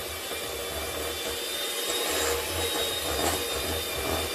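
Electric whisk on high speed mixing American buttercream of icing sugar, milk and vanilla, a steady whirring drone throughout with slight scraping, close and constant with no talk.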